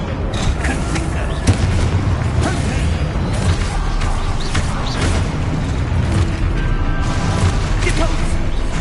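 Confringo blasting spells explode in Hogwarts Legacy as dull booms and crashing impacts over a constant rumble of game noise, with a voice speaking over the action.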